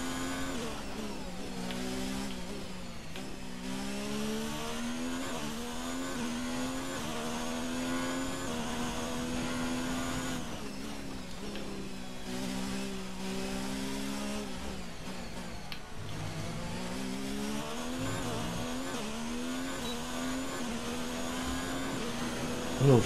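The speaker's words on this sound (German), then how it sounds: "Oh, das ist so angenehm, den Motor zu hören." A Formula 1 race car engine from the F1 2019 racing game howls continuously and loudly, its high-pitched whine climbing and dropping repeatedly through gear shifts with no talk over it.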